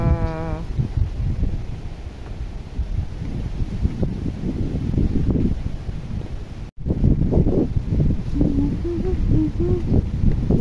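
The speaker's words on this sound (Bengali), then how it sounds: "আর কি হাওয়া করছে বাবা!" Strong gusty wind during a village rainstorm, roaring and buffeting the microphone throughout, with a brief bird call and a short dropout partway through.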